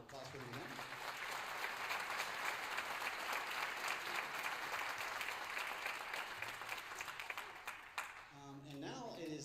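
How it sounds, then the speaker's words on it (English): Audience applause for a high school symphonic band at a spring concert, a steady wash of many hands clapping that fills the room for about eight seconds before tapering off as a voice begins. "Let's give them a round of applause for them again."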